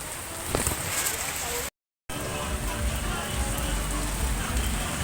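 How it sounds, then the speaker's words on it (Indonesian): Steady rain falls in a village on Sangihe island, a dense, even hiss close by with a brief dropout near the middle and faint activity underneath. "Ini masih hujan ya."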